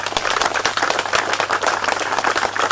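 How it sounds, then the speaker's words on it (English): Audience at a street dedication ceremony clapping for Wayne, a dense, steady patter of many hands close by with no voices over it. "give Wayne a hand clap"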